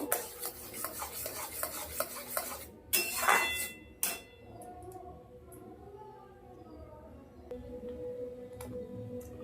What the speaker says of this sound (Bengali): এবার নাড়িয়ে দিয়ে একটু আগে শুকনো করে নেব।